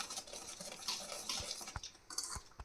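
A spoon scrapes and clinks around a bowl while mixing eggless cake batter, soft wet stirring with a few sharper taps against the bowl's sides, close and fairly quiet.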